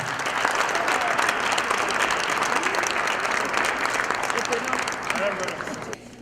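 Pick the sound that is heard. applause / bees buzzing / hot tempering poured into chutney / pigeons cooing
applause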